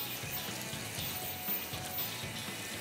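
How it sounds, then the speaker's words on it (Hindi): Water pours into a hot cooking pan of spiced food that is starting to stick, giving a continuous hissing, splashing wash at moderate level. "मैं इसमें पानी डाल देता हूँ, हल्का सा, क्योंकि नीचे लग रहा है"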